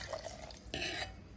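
Water poured into a mixer grinder jar holding soaked rice for kheer, a short splashing pour that swells briefly in the middle, close and alone with no talk.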